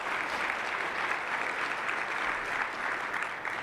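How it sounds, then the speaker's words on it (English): Audience applause at a breakfast event, a sustained burst of many hands clapping, steady and fairly close for a few seconds. "Let's give him a round of applause."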